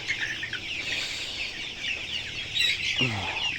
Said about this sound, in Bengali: এখানে 3টা মুরগি আছে